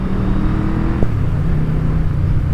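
A Yamaha VMAX V4 motorcycle engine idles with a steady low hum, close by, with a brief sharp blip partway through before settling back.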